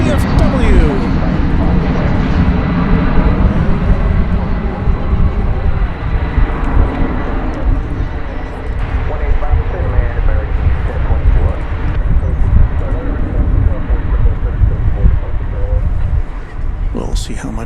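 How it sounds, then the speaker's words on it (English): A heavily loaded Boeing 747 roars down the runway at DFW Airport on takeoff, its loud, sustained engine noise filling the whole stretch, with a voice talking over it and light wind buffeting. "that is one loaded 747. Well, we're about to see it take off here on runway"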